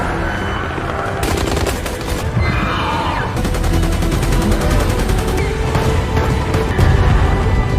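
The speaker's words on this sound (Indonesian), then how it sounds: "Kolonel yang sudah membawa persenjataan lengkap pun langsung menembaki para raptor yang datang mendekat" Gunfire in an action film as a colonel with full weaponry shoots at approaching raptors: dense, loud bursts of rapid automatic shots with sharp cracks, continuing steadily across the whole stretch over a rumbling background.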